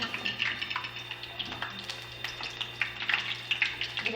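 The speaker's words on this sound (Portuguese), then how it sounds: "Vou deixar fritar mesmo, né?" Snacks frying in hot fat, a continuous crackling sizzle with scattered sharp pops, close up and fairly quiet, with a faint steady hum underneath.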